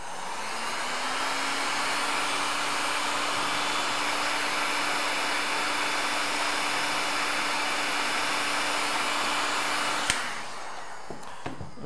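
A heat gun blows hot air steadily to soften the screen adhesive on a Samsung Galaxy S4, its loud even whoosh and faint tonal whine running about ten seconds before cutting off abruptly, followed by a few small clicks.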